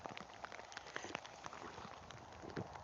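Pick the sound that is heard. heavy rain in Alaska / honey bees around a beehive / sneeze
heavy rain in Alaska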